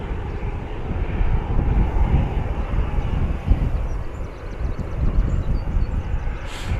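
A Loganair ATR 72-600 turboprop approaches Bristol Airport under low cloud, a continuous fairly loud engine drone that swells and dips slightly throughout, with no talk over it.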